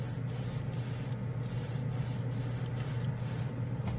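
An airbrush sprays generic chrome paint in a steady, close, continuous hiss over a low hum, with brief gaps where the spray pauses at regular intervals.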